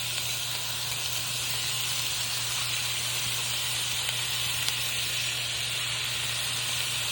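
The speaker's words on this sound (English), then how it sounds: "I'm going to go ahead and add the bacon." Bacon sizzling in a pan while cooking three-meat chili, a steady close hiss of frying fat with faint pops, continuous throughout with a low hum underneath.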